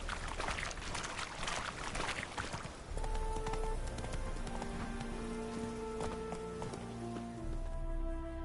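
A horse gallops in The Witcher 3 video game, steady hoofbeats in a quick rhythm under rain and ambient noise, with sustained musical tones entering partway through.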